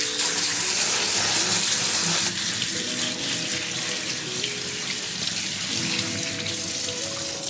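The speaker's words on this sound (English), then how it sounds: "So I'm going to drain these out, and I might even rinse them out a little bit." Sago is rinsed and drained under a running kitchen tap, giving a loud, continuous gush of water into a sink that softens slightly after a couple of seconds, with no talking.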